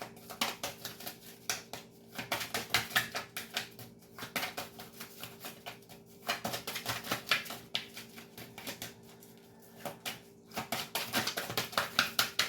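Tarot cards are shuffled in quick repeated bursts, papery flicks and taps clustering close to the listener, with short pauses between rounds and no speech.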